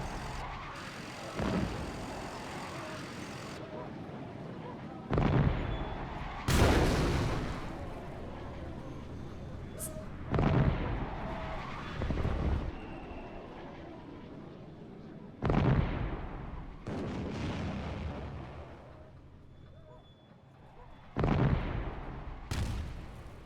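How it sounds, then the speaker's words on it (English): Mortar fire in Power & Revolution 2023 set in Syria: a series of heavy booming impacts, roughly eight spaced bursts a few seconds apart, each a sharp thud trailing off into rumble over a low steady background. "Let's hit them with mortar fire."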